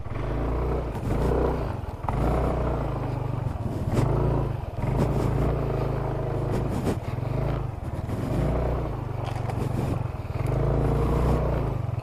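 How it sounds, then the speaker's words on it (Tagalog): Motorcycle engine running on a Cordillera mountain road, a steady low throbbing drone with intermittent clattering and mechanical knocks, fairly close and continuous throughout. "Tignan mo nga yung makina ko kung sasabit."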